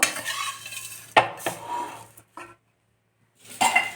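A spoon scrapes and clinks against a pan while podi idli is tossed and stirred, producing a few short, close metallic knocks separated by brief pauses.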